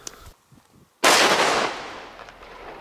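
A single sharp small firecracker bang pops nearby in Spain, followed by a hissing, crackling tail that slowly fades; faint rustling before it.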